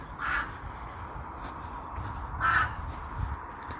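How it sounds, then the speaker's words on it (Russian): Two harsh crow caws ring out some distance apart over a low outdoor rumble at a flea market in Tula, with no speech. "Воронье горло каркает"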